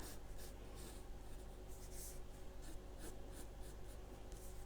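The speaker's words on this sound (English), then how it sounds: "So we're going to draw a line straight down like this, and then right back up again, so it looks like a V." Pencil drawing lines on paper, a soft, steady scratching with faint repeated strokes, quiet and close, with no talk.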